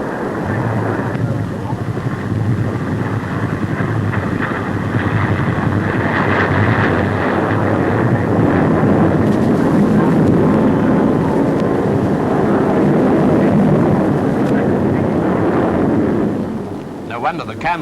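An English Electric Canberra jet trainer performs a flying display at an airshow, a continuous loud roaring jet rumble swelling and sustaining like a low pass, then fading at the end.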